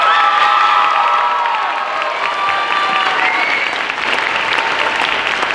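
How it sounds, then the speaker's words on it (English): An audience at a senior recognition event claps and cheers for two senior stage technicians, dense sustained applause with whoops and shouts, loud and close throughout. "Please give them a round of applause."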